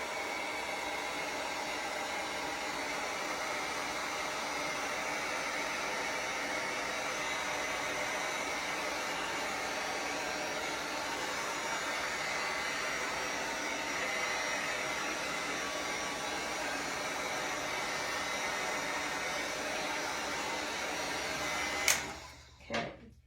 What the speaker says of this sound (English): I'm going to get the dryer because it's still a little damp